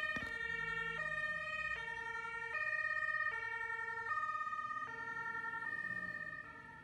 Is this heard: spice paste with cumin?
no